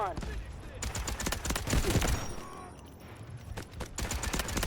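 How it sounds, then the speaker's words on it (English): VSS rifle gunfire in the video game Delta Force: repeated suppressed shots in quick bursts over a busy background of game noise, with a voice talking over it. "Let's take some ranged shots now."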